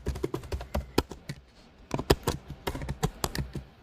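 Quick, uneven bursts of typing on a computer keyboard, close and crisp, with a short pause midway before the keystrokes resume.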